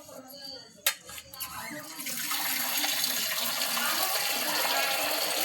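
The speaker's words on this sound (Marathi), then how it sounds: "इथं इथं नळ आहे की चालू आहे?" A water tap runs steadily at an outdoor weekly village market where fish are being cleaned, a broad rushing hiss that starts after a couple of knocks and keeps going to the end.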